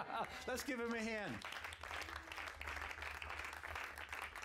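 Applause from the congregation at a church session, a fairly faint, continuous patter of clapping that follows someone speaking with rising intonation at the start, over a low background hum.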